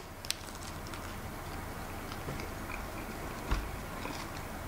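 Someone eats a plant-based lunch with hummus, soft quiet chewing and moist mouth sounds close by, with a couple of sharper bites or clicks over faint background noise.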